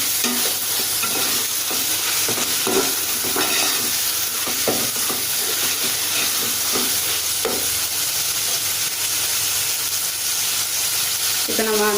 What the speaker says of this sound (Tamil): இப்போ அடுத்தது புதினா சேர்த்துக்கலாம். சேர்த்துட்டு நல்லா வதக்கிடலாம்.